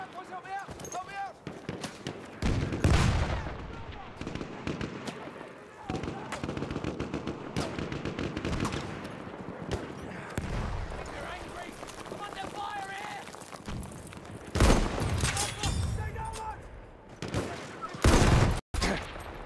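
Bursts of automatic rifle and machine-gun fire in the Battlefield 1 beta crackle almost continuously, with sharp louder shots near the end, while a player talks over the din.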